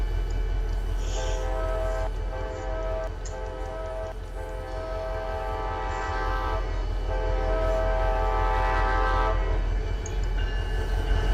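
Train horn in the video game Terminal Railways, a sustained multi-tone chord sounding in long blasts with short breaks, loud and steady over a low rumble.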